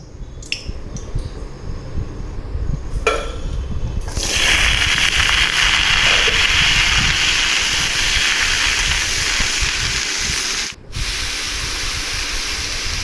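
A few clinks, then a sudden loud hiss as chopped ash gourd and potato hit hot oil, settling into a strong, steady sizzle.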